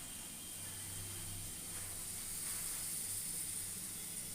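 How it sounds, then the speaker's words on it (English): Potatoes frying gently in a little oil over a low flame, a soft, steady sizzle and hiss running evenly throughout, faint and close, with no voices. "Fry these potatoes in low flame and low oil."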